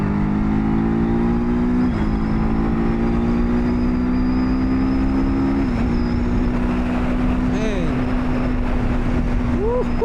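A TVS Apache RTR 310 motorcycle being ridden, its engine holding a steady drone with a few shifts in pitch as it changes gear, under loud continuous wind rush.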